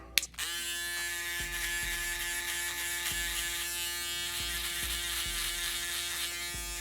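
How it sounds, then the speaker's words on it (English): An electric shaver buzzes steadily and close by while finishing a combover modern mullet haircut, with a brief click as it starts and small changes in pitch as it moves over the head. "If you want the haircut to stand out even more, guys, don't forget to use your shaver."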